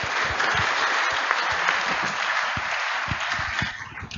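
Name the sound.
applause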